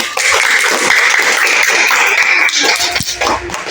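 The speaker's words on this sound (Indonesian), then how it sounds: "beri tepuk tangan dulu untuk kerjasama kita hari ini" A classroom of children applauds together, a dense, steady wash of many small hands clapping close by, holding level for several seconds before thinning slightly toward the end.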